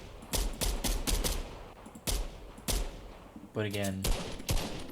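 MK7 rifle fire from the video game Fortnite comes in rapid, punchy bursts of sharp gunshots with a rattling tail, and a voice speaks briefly between the shots.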